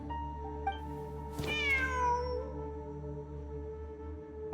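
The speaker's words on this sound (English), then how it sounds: "Wait, there it is! The cat!" A cat in a video game gives a single clear, drawn-out meow that rises and falls, over a steady humming game soundtrack with no speech.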